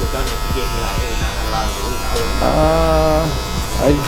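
A cordless Magic Clip hair clipper buzzes steadily during a haircut, with a close electric hum that keeps going throughout. A voice talks over part of it.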